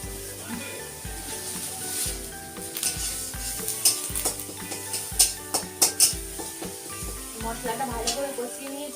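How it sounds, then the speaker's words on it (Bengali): Spice masala with coriander-cumin powder sautéing in a pan for a home-style sea crab curry, with steady sizzling and hiss plus repeated scraping and stirring knocks of a utensil against the pan, close and fairly loud. "মশলাটা ভালো করে কষিয়ে নিয়েছি।"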